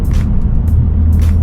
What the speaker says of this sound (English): It's got a good grind from the back.